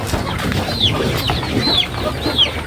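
Darag breeder chickens on a farm, soft clucking with three short rising calls repeating about once a second over a steady noisy outdoor background.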